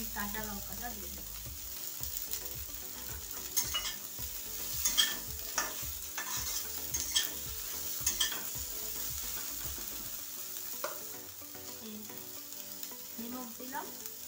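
Green chilies fry along with samosa filling in a pan, a loud, close sizzle punctuated by rhythmic scraping stirs that ease off toward the end.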